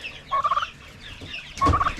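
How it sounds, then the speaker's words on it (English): Young, fully feathered chickens, pullets and cockerels on a homestead, give two short, warbling, gobble-like calls close by, separated by a brief quiet gap. "Here's our chicks. They're getting bigger."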